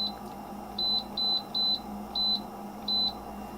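Air fryer control panel being set to 350 degrees, giving a series of six short, clear electronic beeps at irregular intervals over a low steady hum.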